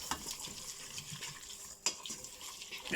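Drained pasta being stirred with olive oil and salt in a pot, giving soft continuous scraping and clinking of a utensil against metal, with one sharper knock near the end and no talk.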